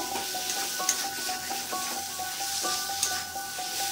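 Fried potatoes being stirred through a sizzling bhetki fish curry in a pan, with steady frying hiss and repeated soft scraping strokes of the spoon, close and alone without talk.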